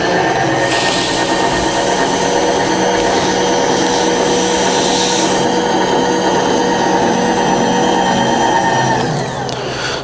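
The 42 inch table of a rebuilt Bridgeport milling machine travels on its power feed with a loud, steady mechanical whir and a sustained motor whine. It runs close and continuous without talk, then eases off at the very end.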